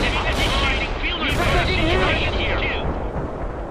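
Gunfire and artillery in World in Conflict roar as a dense wall of blasts and rattling shots, with voices calling out over the battle.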